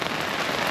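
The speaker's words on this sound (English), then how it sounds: "Who says you can't grill in the pouring rain?" Pouring rain drums steadily on a beach umbrella used as cover for grilling outdoors, a loud dense hiss of drops with no pauses.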